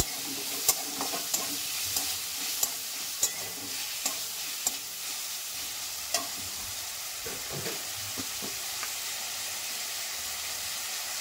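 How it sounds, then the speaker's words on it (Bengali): Four chilies frying together in a pan, a steady sizzle with scattered crackles and the scrape of stirring at irregular intervals, close and moderately loud, with no talk. "আর এখানে 4 পিস লঙ্কা দিয়ে দিলাম, দিয়ে আমি ভেজে নেব।"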